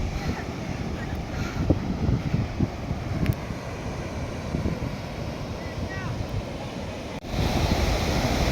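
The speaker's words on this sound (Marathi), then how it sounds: "हा मंडळी बघा समुद्र कसा" Rough, churning sea surf breaks on the shore at Tambaldeg beach, a continuous loud roar with gusty wind buffeting the microphone and a brief dip in level near the end.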